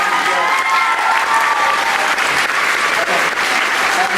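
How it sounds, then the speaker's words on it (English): A theatre audience applauds steadily after an evening performance of a musical with an orchestra, the clapping dense and loud throughout. "Another round of applause for everyone here tonight"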